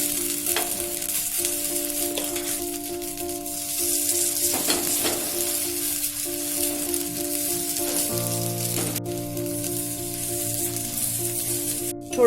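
Leftover khichdi cutlets fry on a greased non-stick pan, producing a steady close sizzle and crackle with occasional light scraping, and no voices.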